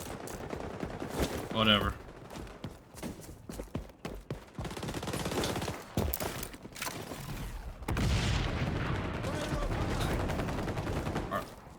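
Marksman rifle fire in the video game XDefiant: repeated loud shots and bursts mixed with game effects, with a brief spoken word partway through.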